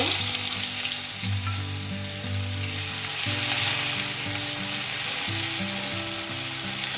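Chopped onion sizzles steadily in a hot pan for a fish roe dish, a continuous crackling fry heard up close beneath background music.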